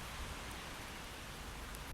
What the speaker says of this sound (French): Sous ce temps incroyable, il pleut